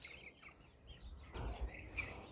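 A bantam hen gives a few faint, soft clucks and chirps up close, with quiet handling rustles in between.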